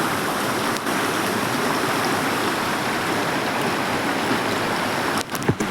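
Stream water rushes and gurgles steadily close by, a loud continuous flow with a few brief knocks near the end.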